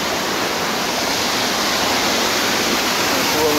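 A waterfall in Abkhazia pours steadily, a loud continuous broadband rush filling the whole clip with no pauses.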